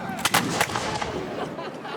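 A musket volley fired by re-enactors at a steam rally: a ragged burst of several sharp, loud shots close together over about a second, followed by a fading rumble of echo.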